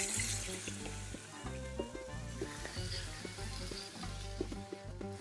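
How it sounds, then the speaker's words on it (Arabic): Rice fries in ghee with pea-and-meat broth in a home kitchen pot, a steady sizzle with bubbling and watery stirring that holds close and fairly loud throughout, with no voices over it. "بدي أقلي الرز بنفس المرقة والسمنة تبع البازاليا نفسها"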